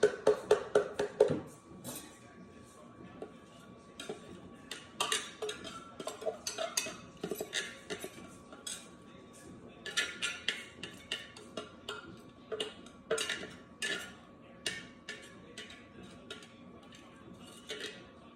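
Utensils clink and scrape against a bowl while beet, apple and carrot salad is tossed, giving irregular close taps and clatters in uneven bursts throughout.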